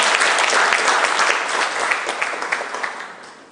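Steady applause from an audience at an agricultural ICT convergence project briefing session in Gyeongnam, dense and fairly loud throughout, fading slightly toward the end.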